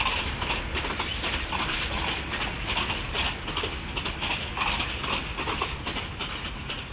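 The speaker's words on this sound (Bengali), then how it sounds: "তো এই ট্রেনটা বাংলাদেশের সবচেয়ে ধীর গতির ট্রেন" A slow Ramna local passenger train in Bangladesh rolls past close by, its steady rumble and clattering wheels filling the whole stretch at a fairly even level with no talking.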